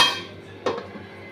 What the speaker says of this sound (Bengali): ঢাকাটা দিয়ে রাখছি